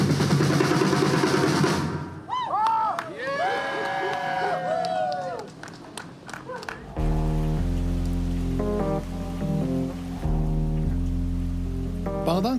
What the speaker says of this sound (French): Pendant que la pluie tombe sur Bogota